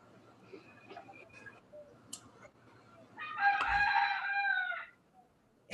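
Rooster crowing at daybreak, a single loud crow arriving after a stretch of faint clucks and scattered small sounds, fairly close and standing alone without speech.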